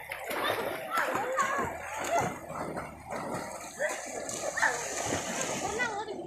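Children splashing while swimming in a river: continuous splashing and water churning, close by, under constant excited children's talk and shouting, with a dog barking now and then.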